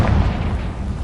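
A Confringo fire spell blast in Hogwarts Legacy erupts as a loud, deep booming explosion with heavy low rumble, continuous and close for its brief length.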